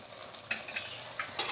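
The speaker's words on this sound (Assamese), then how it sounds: "এতিয়া আকৌ আৰু অকণমান দেৰি ভাজি থাকিব লাগিব" Pointed gourd and paneer curry fries in a pan with a soft steady sizzle, broken by several sharp scraping strokes of a spoon stirring against the metal.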